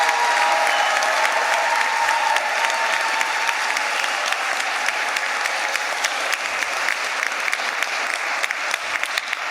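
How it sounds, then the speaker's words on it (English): A large commencement ceremony audience gives a sustained round of applause for the graduates, with dense, even clapping from many hands holding steady and loud throughout. "Please give a round of applause to all those who graduated here today."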